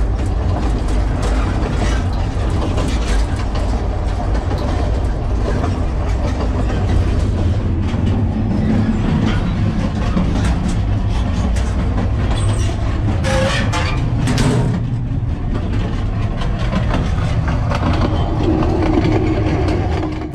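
Narrow-gauge passenger train from Alapayevsk, Russia, running steadily on rails: continuous loud rumble and rolling noise with occasional high squeals and faint horn-like tones, no talk.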